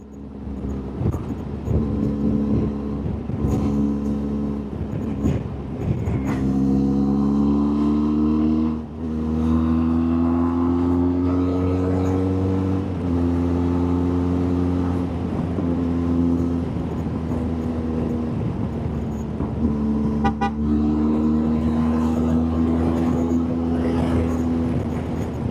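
Motorcycle engine droning steadily while riding in strong wind, loud and close with rising and falling pitch as the revs change, buffeting wind noise mixed throughout.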